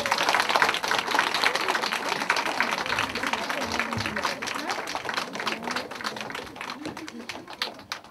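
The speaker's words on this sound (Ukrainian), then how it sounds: "Підтримаємо оплесками." An audience at a children's theatre initiation ceremony in Boryspil claps steadily, a continuous wash of applause lasting around eight seconds and gradually thinning toward the end.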